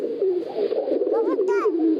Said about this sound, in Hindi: जी ये कबूतर है